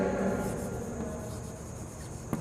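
Notes written on a board in a class 10 chemistry lesson: faint, continuous scratchy strokes of writing, quiet and close, with a small tap near the end.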